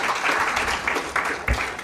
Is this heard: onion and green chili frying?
no